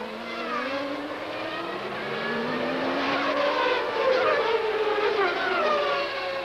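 Formula 1 race cars at the 1993 Canadian Grand Prix, a pack of high-revving engines screaming past one after another, their pitch sweeping and overlapping as they approach and pull away, loud and continuous.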